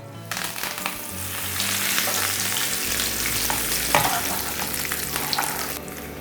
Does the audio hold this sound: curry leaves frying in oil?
yes